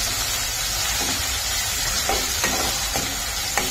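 Tomato and onion fry together in a hot pan with a steady, dense sizzle and hiss, broken by a few soft scraping stirs.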